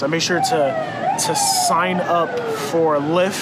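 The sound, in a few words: emergency vehicle sirens passing outside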